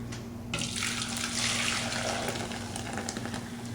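Hot Knox gelatin liquid pours steadily into a mold, a continuous close splashing stream that begins abruptly and runs without a break to the end.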